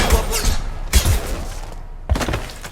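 Gunfire in the video game Mass Effect 2, three loud bursts of shots with heavy low thumps, spaced about a second apart, close and punchy.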